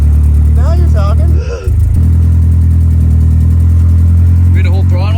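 A turbocharged Chevy LUV engine runs loud and close under steady throttle, a rough continuous drone with a brief dip, while people talk over it.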